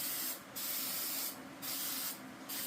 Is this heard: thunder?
no